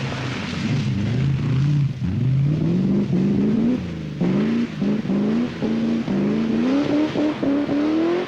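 A Triumph TR7 V8 rally car drives on ice, its engine revving hard and rising through the gears, with sharp throttle blips and a brief lift near the middle, loud and close throughout.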